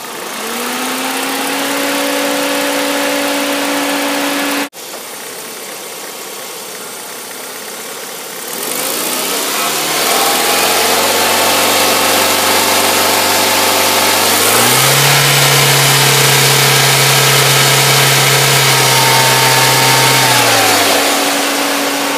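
A car engine idles steadily, then revs up in several long, loud pulls, the pitch rising and holding before dropping back toward idle, heard up close with no talking.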